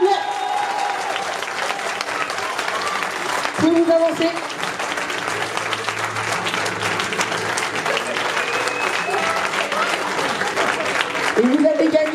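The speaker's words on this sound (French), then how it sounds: "Je vais les applaudir s'il vous plaît." An audience at a local talent show applauds a dance group placed third, with sustained clapping and crowd noise. Someone speaks briefly into a microphone over the applause.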